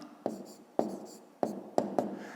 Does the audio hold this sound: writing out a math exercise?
yes